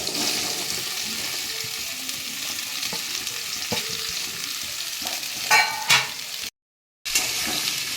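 Indian gooseberries drop into hot mustard oil tempered with asafoetida and nigella seeds for a pickle, giving a steady close sizzle. A louder hissing burst comes near the end, then a brief dropout of sound.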